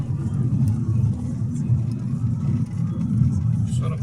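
A Skoda Octavia 1.8 TSI engine running on LPG idles with a loud, steady low rumble close by, the tone holding even throughout with slight fluctuations.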